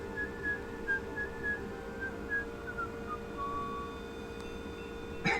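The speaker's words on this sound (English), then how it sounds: "That was not Fleshwood whistling the song, by the way." A game character in Ultima IX whistles a tune, a clear melodic line of short notes over a steady background hum, ending with a sharp click.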